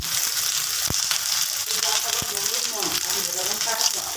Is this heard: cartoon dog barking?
no